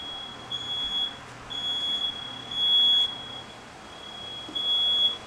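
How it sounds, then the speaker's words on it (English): A smoke alarm chirps in a kitchen while fish is cooked, giving repeated high, thin beeps in uneven bursts over a quiet room hum. "fire alarms and all"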